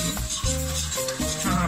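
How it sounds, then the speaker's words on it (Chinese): Stir-frying in a pan with chili oil used in place of cooking oil, a close sizzle with repeated spatula scrapes and clinks against the pan in uneven strokes, no talking. "辣椒油代替油，直接下去炒菜，或是炒鸡蛋"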